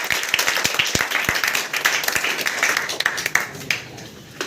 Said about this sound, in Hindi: ताली मारें इनके लिए।